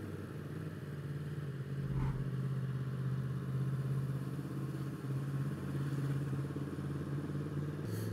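Touring motorcycle carried two up in the Lake District, fitted with a front touring screen: a steady mid-pitched engine drone with wind rush, a brief clunk near the start and a rising rev at the end, no talk.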